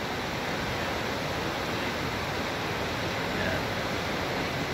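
Takakkaw Falls in Yoho National Park roars as a constant broadband rush of falling water, steady and fairly distant with no other sounds.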